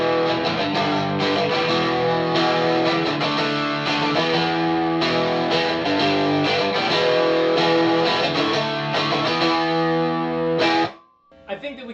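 A 2016 G&L ASAT Classic electric guitar played through a Tube Screamer overdrive pedal, steady distorted strummed chords with audible hiss underneath, ringing loud and close before cutting off abruptly near the end.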